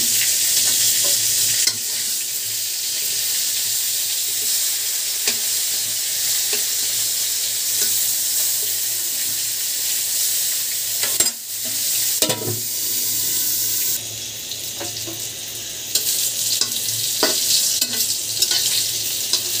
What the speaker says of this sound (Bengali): একটু হালকা তেলে ভেজে গুঁড়া গুঁড়া মতন করে রান্না করবো।